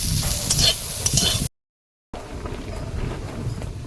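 Potatoes frying in a pan over a clay stove, a close steady sizzle with stirring scrapes, broken by a brief silent gap before the frying resumes.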